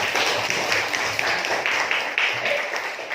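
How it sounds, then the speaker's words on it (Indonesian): Steady applause from a classroom of students, a dense patter of hand claps held at an even level for a few seconds. "tepuk tangan Jainuddin"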